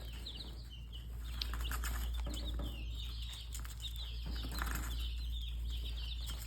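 Baby chicks chirp continuously in a brooder, a dense overlapping chorus of high peeping close by with some wing-flapping rustle and a steady low hum beneath.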